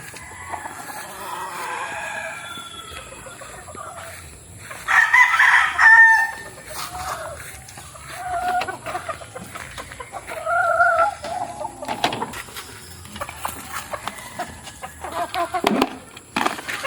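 Backyard chickens and a rooster at feeding time, crowing and clucking near and far with bursts of louder calls amid the flock.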